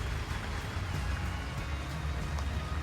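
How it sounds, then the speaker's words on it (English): Steady rain patters continuously at a greenhouse in Colorado Springs in a broad, even hiss, with low rumbling underneath and no voices. "it's raining"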